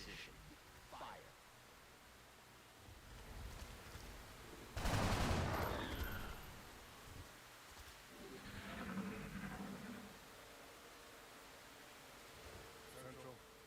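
Gunfire in the XCOM video game, a loud burst of shots erupting midway through a quieter stretch of game ambience, with faint voice lines around it.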